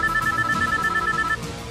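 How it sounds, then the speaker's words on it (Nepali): A telephone rings indoors in a dramatic film scene, a steady repeating electronic trill over a background hum that stops partway through, with no speech. "फोन पनि आइहाल्यो"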